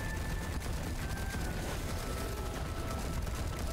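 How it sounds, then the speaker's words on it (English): Scattered explosions and rapid combat bursts crackle steadily throughout a Darksiders Genesis battle, dense and continuous with no speech over them. "she's just causing random explosions all over the place"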